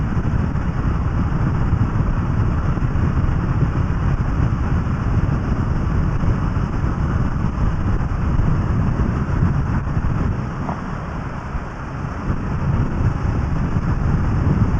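A motorcycle riding through the A3 Hindhead Tunnel over a rough road surface gives a steady, loud, enveloping roar of engine and rushing air that continues without a break.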